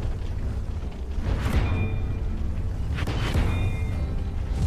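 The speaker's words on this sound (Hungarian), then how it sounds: "Egyszerűen csak záporoznak rá a lövések." Tank cannon fire and shell impacts in World of Tanks, with a heavy tank taking repeated hits, come through as a dense, loud rumbling barrage with a couple of sharper booming bursts and whooshes standing out against steady battle noise.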